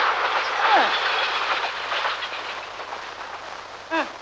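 A train passes with a steady, broad rumble of railway cars and rolling wheels that slowly fades, with a brief higher chirping sound near the end.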